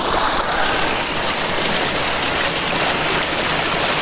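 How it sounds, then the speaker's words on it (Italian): Cold spring water flows from a mountain spring along a hiking trail in the Abruzzo National Park, a loud, steady, close rushing and splashing that fills the whole stretch. "Questo qua, questa è l'acqua di sorgente."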